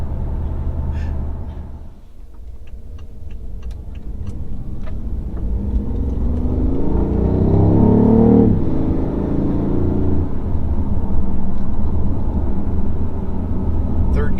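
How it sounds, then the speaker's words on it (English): BMW i8 with a modified exhaust accelerating on a flat road at about 45 mph, its low engine drone building steadily and swelling loud midway, heard from inside the car with a voice speaking over it. "that low tone that's coming off of the engine"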